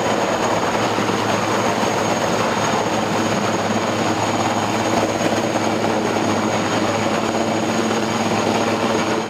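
Military aircraft, MiG-21 Lancer jets and helicopters in an exercise over the port of Tomis, produce a loud, continuous engine roar with steady rotor-like throbbing throughout.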